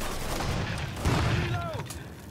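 Gunfire from a shootout in the video game Mafia 3, a dense volley of sharp bursts in a firefight, with scattered game voices and effects layered over it.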